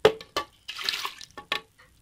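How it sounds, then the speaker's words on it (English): Water poured in short splashy bursts over fennel seed while making a homemade weight loss drink, a few brief close pours with small gaps between them. "then add fennel seed along with water"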